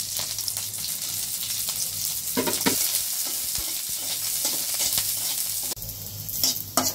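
Chopped onion, garlic and dried chilies frying in oil in a pan for a mashed bharta, a loud continuous close sizzle with intermittent scraping stirs and utensil knocks, no voices.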